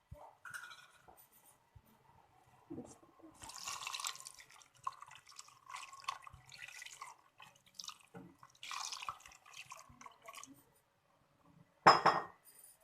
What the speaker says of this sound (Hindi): हमने ये इसमें अपना पानी डाल दिया है,